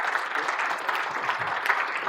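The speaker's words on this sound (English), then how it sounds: "Nice big round of applause" Audience applause for volunteers at a maths busking event, a short burst of many people clapping together, steady and fairly close, lasting about two seconds.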